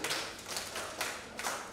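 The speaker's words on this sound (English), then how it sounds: "Clap for yourselves again." Schoolchildren at a 2019 sickle cell prevention lesson in Rivers State clap for themselves. It comes as a few soft, scattered bursts of applause in a room, with no voices.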